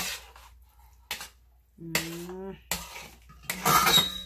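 Spoon clinking and scraping against a pot while stirring sinigang, a Filipino sour soup with salmon belly, in a few short metallic bursts separated by pauses, with a brief tonal ring among them.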